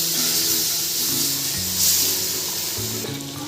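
Hot water poured into caramelizing sugar for a wheat halwa hisses and sizzles in a loud, continuous wash of steam and frying noise, close up with no talking.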